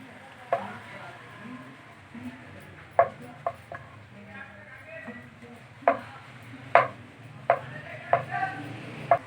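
Soft thuds and rolling knocks of a rolling pin pressing crust-trimmed bread slices flat like roti for bread cone samosas, with a few sharper taps spaced irregularly over a low kitchen background.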